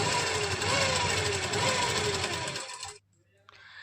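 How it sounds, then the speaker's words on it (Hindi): A sewing machine runs steadily, sewing long stitches along a kurti lining with a close, continuous whirring hum, stopping near the end, followed by a faint short buzz; a voice is present beneath the machine. "अब हम इसको उल्टी साइड पलट लेंगे और बड़े टांके की सिलाई लगा देंगे।"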